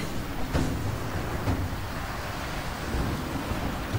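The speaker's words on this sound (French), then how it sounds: "La tempête là. se rapproche." Rumbling thunder from an approaching storm on a mountain climb in the video game Rise of the Tomb Raider, a steady dense roar mixed with rain-like noise and a few heavier rolls, fairly loud and continuous.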